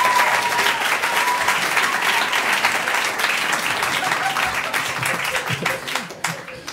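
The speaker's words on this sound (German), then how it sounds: "Ja, Applaus, Herr Pusch" A comedy theatre audience applauds, a dense wash of many hands clapping that holds strong and then gradually thins toward the end, with a voice briefly heard over it.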